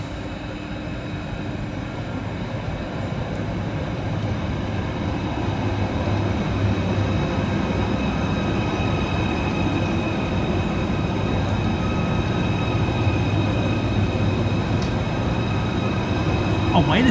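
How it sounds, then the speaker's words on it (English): A Merseyrail Class 777 electric train arriving at Liverpool Central to terminate, a steady rumbling roar of wheels on rails that builds gradually and stays loud and close throughout, with faint squeals near the end. "Whilst arriving to terminate with a Merseyrail electric service off Liverpool Central is 777"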